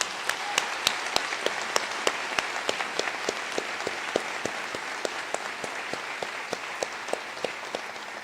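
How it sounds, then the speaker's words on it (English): Audience applause fills the hall at a medical school white coat ceremony, a steady dense wash of many hands clapping with a few sharper claps standing out, sustained at even loudness. "let's give a round of applause for Dr. Coker."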